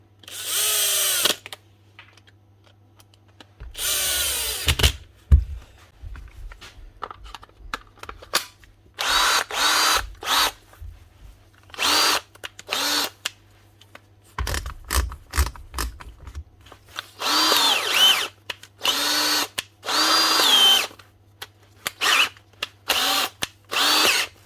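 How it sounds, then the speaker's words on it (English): Repaired Hikoki DV 18 DGL cordless drill with a formerly stripped gear, run in repeated bursts at high and low speed, loud whirring spurts separated by pauses and a low background hum. "Drilling in both speeds again."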